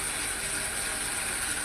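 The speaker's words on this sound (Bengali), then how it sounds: "এর ওপর আমি দিয়ে দেবো আদা রসুনের পেস্ট। পেঁয়াজটা আমার ভাজা হয়ে গেছে।" Onion and ginger-garlic paste fry in a pan for a doi katla fish dish, making an even, continuous hiss throughout with a faint tap at the very end.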